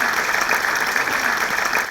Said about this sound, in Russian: Зал сегодня Минтимера Шаймиева встречал аплодисментами.